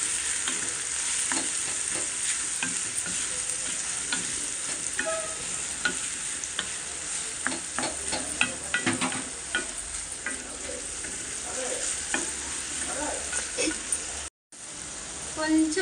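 Minced mutton and bitter gourd sizzle steadily in a pan while being stirred, with frequent scraping clicks of a utensil over a constant frying hiss.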